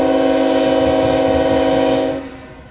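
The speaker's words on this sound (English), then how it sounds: "This is a northbound. This stack train is actually going to terminate here in Fremont." Northbound BNSF stack train in Fremont, Nebraska, sounding a loud, sustained multi-tone horn over rolling rail noise, cutting off near the end.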